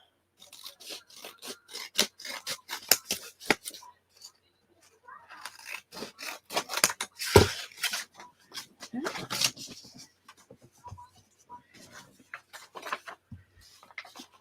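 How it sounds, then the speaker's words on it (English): Someone cuts open a paper envelope: a long series of close, crisp rasping snips and rubs in an irregular rhythm, with short pauses between bursts. "Cut the envelope open."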